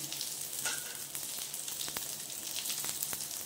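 Mustard flower stick pakoras fry in hot oil, a faint continuous sizzle with small pops and crackles, with no voices.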